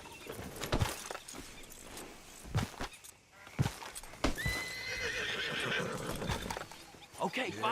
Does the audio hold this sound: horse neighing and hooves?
yes